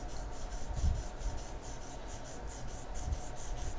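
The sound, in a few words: pencil shading on paper with side of pencil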